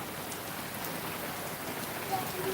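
Rain falls outdoors in a steady, dense hiss of drops hitting surfaces, loud and continuous throughout with no break.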